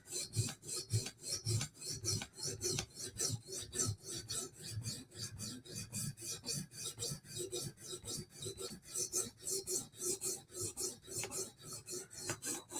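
A knife heel is squared up on a sharpening stone with steady, rhythmic back-and-forth rasping strokes, close and fairly quiet, with no talking.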